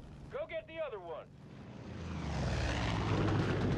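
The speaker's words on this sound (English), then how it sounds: "That plane belongs to a Chosen." A propeller airplane in the video game Far Cry 5, set in Montana, approaches and grows louder as a steady droning roar that swells over the clip, after a short stretch of talk at the start.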